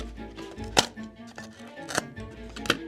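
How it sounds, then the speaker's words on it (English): Cardboard being cut to make holes in a toy castle, several sharp crunching cuts and snips at close range with softer handling noises between them. "Cut out the holes."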